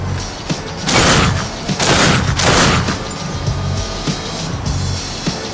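Shotgun gunfire in The Darkness 2, several loud booming blasts in quick succession with a longer burst in the middle, followed by fainter scattered shots over a low background rumble.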